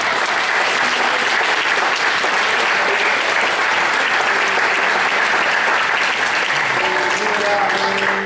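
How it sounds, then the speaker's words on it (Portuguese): A church congregation applauds loudly and steadily, a dense wash of many hands clapping that continues unbroken throughout, with a few voices mixed in. "dá uma salva de palmas para Deus."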